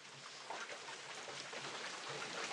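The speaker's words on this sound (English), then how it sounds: "I can see the rain around me. You guys can hear it." Steady rain falls all around an open hut, a dense even hiss of drops with occasional heavier patters on the surface.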